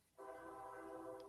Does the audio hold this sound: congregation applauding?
no